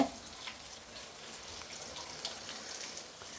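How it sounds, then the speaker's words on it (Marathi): Chopped onion dropping into hot oil with green chillies, giving a soft, steady frying sizzle that stays faint and even throughout, with no talking. "आता मी कांदा टाकून घेते"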